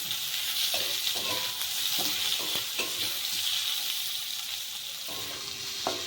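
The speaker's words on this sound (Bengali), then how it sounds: "টমেটোটাকেও ভালো করে ভেজে নিতে হবে।" Onion, garlic, ginger and tomato frying in oil give a continuous close sizzle broken by scraping stirs and utensil knocks, with no talking.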